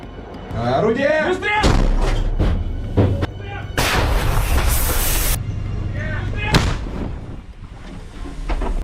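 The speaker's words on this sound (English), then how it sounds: "Russian artillery opens up." Russian artillery pounds a trench-warfare position in loud, close booming blasts, several heavy bursts spaced a second or two apart with crackling debris between, and a voice speaks over the barrage.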